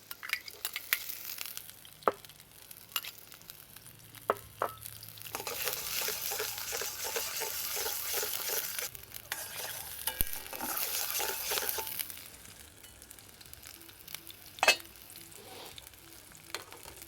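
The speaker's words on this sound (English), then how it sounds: "once you've melted your ghee, throw in the onion and your green pepper." Onion and green pepper fry in melted ghee, a sizzle that swells and fades as the pieces are stirred, with clinks and scrapes of a utensil against the dish and no talking.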